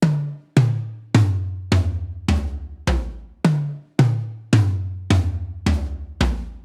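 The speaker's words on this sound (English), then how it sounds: "All of the toms have M201s coming from underneath and sound like this." Tom drums miked from underneath with Beyerdynamic M201s on a drum kit: a steady series of loud, resonant single hits moving through several pitches, each with a deep ringing tail.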